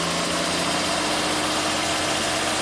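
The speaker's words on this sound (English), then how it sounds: "So I'm going to raise the RPMs." A 1967 Triumph GT6 engine runs steadily at raised revs, a close, continuous mid-pitched drone with a rough rumble underneath and no voices.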